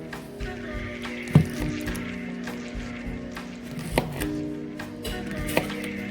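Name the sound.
knife chopping okra into chunks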